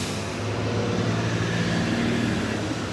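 Trucks passing by outdoors, a steady low rumbling roar of heavy traffic at moderate distance with no voices over it.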